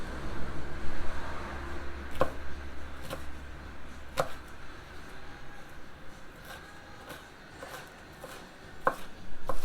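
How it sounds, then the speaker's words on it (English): Knife chopping ingredients for Dutch oven baked beans on a cutting board, a series of sharp, distinct close-up chops at an irregular pace over quiet background noise. "So just chop this up kind of nice where you would want it on a spoon."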